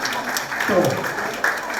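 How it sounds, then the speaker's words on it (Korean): Brief applause rises from attendees at the Eumseong County Hope 2024 sharing campaign ceremony, a short burst of steady clapping with a voice speaking over it. "소통 박수로 부탁을 드리겠습니다."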